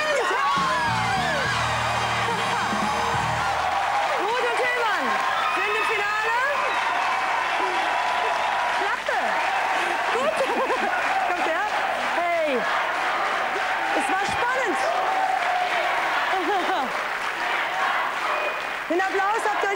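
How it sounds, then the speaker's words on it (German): Loud studio audience applause on a 1997 German TV game show, continuous clapping mixed with whoops and cheers, while excited voices and a host talk over it throughout. "Den Applaus habt ihr euch verdient."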